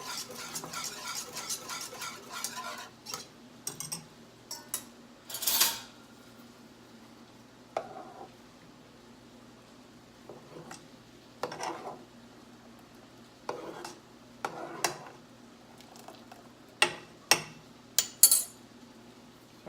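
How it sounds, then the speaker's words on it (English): Spoon stirring ice cream custard mixture in a pot, with repeated scraping and clinking strokes at an uneven rhythm, some louder bursts standing out over a low steady background hum. "you want to keep stirring this mixture until it has a nap consistency."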